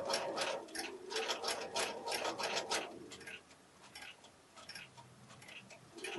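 A home sewing machine runs in quick ticking bursts while stitching quilt blocks together, its rapid stitching rhythm loud for about three seconds, then quieter and sparser as the work is guided along.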